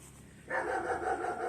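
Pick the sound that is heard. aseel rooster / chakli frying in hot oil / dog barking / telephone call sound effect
dog barking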